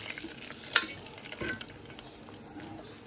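Tempering of curry leaves and dried red chillies stirred into tamarind leaf dal in a pot, with a soft scrape and clink near 0.8 seconds and a quieter stir later over a faint background hiss.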